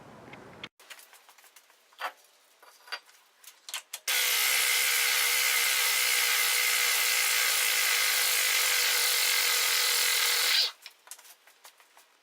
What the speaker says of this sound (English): Next, what I'll do is remove the rotor and the axle nut.